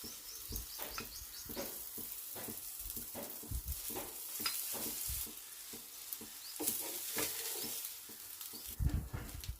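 A millet dosa on a hot pan sizzles as oil is drizzled over it, with irregular crackling bursts, spatters and occasional scraping clicks, close and fairly loud.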